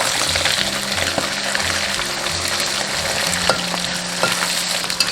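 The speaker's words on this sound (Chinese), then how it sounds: "煎至2面金黄就可以盛出来备用" Fish pan-fries in hot oil with a few slices of ginger, giving a constant close sizzle and crackle with small pops and no voices.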